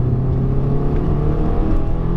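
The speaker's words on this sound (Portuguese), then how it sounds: "A primeira coisa que a gente vai fazer aqui, ó, é dar uma acelerada mais consistente." A 2017 Honda Civic Sport is driven on the road, its engine and drivetrain droning steadily under firm acceleration, a continuous close-up hum with no talk.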